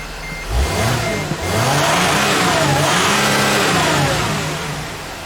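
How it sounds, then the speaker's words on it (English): A Dodge Sprinter engine, tested for a mass air flow sensor fault, cranks and catches, then revs briefly before settling into a loud, steady idle close by, with no talk. "Alright, so I got the engine going."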